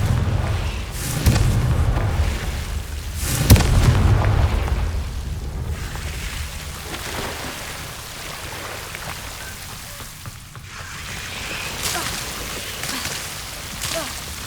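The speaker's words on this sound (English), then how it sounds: "Confringo." A Confringo fire spell detonates in Hogwarts Legacy with heavy booming blasts early on, then trails off into a steady crackling, rain-like hiss with occasional softer bursts.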